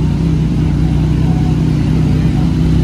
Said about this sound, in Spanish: Pero aquí ya se van todas las motos.